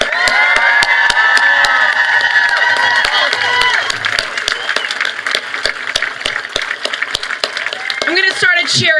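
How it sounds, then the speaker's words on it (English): A rally crowd at a vigil outside the Supreme Court cheers and shouts loudly, with scattered sharp hand claps punctuating a steady wash of voices, and a few louder whoops rising near the end. "we need one more round of applause"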